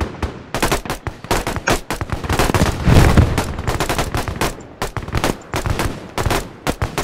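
Video game gunfire: loud, rapid bursts of shots with short gaps between volleys, close and punchy, and no speech over them.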